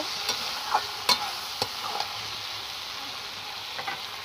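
Okra stir-fried with ground poppy seed paste in a pan gives a steady, soft sizzle, broken by a handful of sharp spoon scrapes spaced irregularly through the stretch, with no one speaking.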